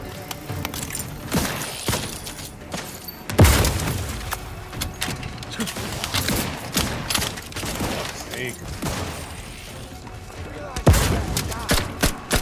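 Gunfire in the Outer Worlds 2 video game: scattered shots and heavier booms crack out at irregular intervals over a busy background, with voices talking in between.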